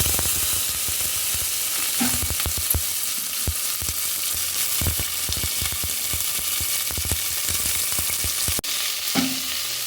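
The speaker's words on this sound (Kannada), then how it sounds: "ಈಗ ನಾನು ತರಕಾರಿನ ಹಾಕ್ಕೊಳ್ತೀನಿ ನೋಡಿ ತೊಂಡೆಕಾಯಿನ ಹಾಕ್ಕೊಳ್ತಾ ಇದ್ದೀನಿ" Ivy gourd fries in a pan with mustard, fennel and cumin seeds, giving a loud, steady sizzle with intermittent clacks of stirring.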